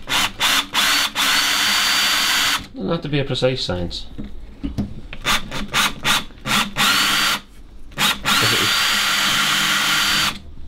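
A loud power drill whines steadily into a titanium plate in long bursts, pausing briefly while a person speaks, then drilling resumes.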